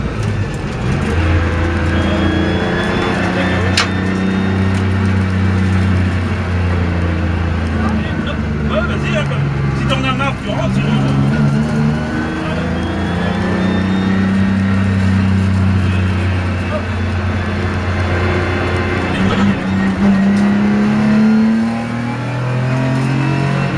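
A BMW 325i E30 with an M50B25 six-cylinder engine climbs through the revs on a circuit and shifts up into third gear, loud and near from inside the cabin, with someone talking over the engine.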